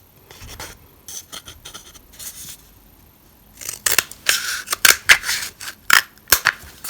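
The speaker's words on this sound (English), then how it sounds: "all you've got to do is take the toilet roll holder and just cut it" Scissors snip through a cardboard toilet roll holder in a run of sharp, close cuts, a few sparse snips at first and then a rapid burst of crisp crunching blades.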